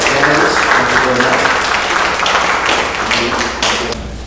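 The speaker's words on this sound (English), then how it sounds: "big round of applause for our candidates." A crowd claps steadily in a sustained round of applause, fairly loud and close, tapering slightly toward the end with some voices mixed in.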